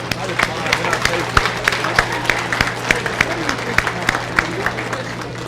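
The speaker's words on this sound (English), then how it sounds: "Let's give these young people a round of applause for all their hard work." Audience applause at a junior fair sale at the Fayette County Fair, a modest crowd clapping steadily with scattered distinct claps over a constant low hum, crowd murmur mixed in throughout.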